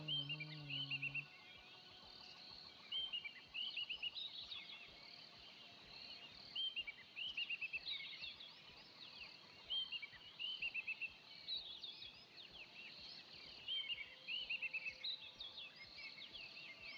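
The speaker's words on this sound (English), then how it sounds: "one of those birds is getting really annoying" Birds chirping steadily, bright repeated high chirps and trills in quick clusters, with a faint low tone briefly at the start and no talking.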